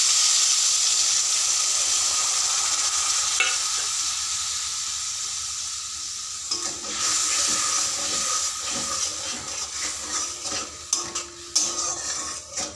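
Panch phoron spices and two dried red chillies sizzle in hot oil in a blackened kadai, a steady hiss with stirring scrapes and crackles growing busier toward the end.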